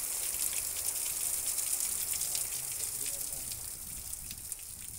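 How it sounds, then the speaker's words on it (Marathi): Heavy rain falls steadily in a village near Belgaum, a dense, even hiss of drops that fades only slightly over a few seconds. "इथं आल्या आल्या मोठा पाऊस पडायला लागला। बघा किती सुंदर पाऊस दिसत आहे।"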